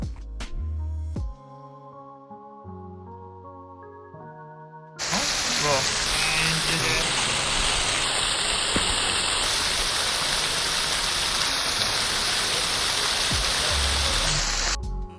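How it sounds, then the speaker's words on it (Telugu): Rain and rain-fed waterfalls at Kanheri caves make a loud, steady rushing roar that begins suddenly after a quieter musical opening and continues unbroken to the end. "వర్షం పడటం వల్ల ఎక్కడ పడితే అక్కడ ఇలా వాటర్ ఫాల్స్ లాగా ఇలా చాలా అంటే చాలా బాగుంది"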